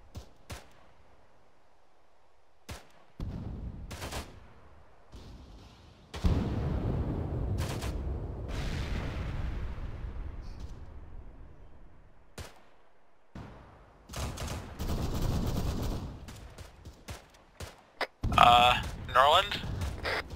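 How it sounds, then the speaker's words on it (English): Heavy .50 caliber machine gun fire in the video game Arma 3 during an airfield defense, heard as scattered bursts and sharp shots between stretches of rumble, with radio-style voices talking over parts of it. "Red, yellow, put those 50 cals to work."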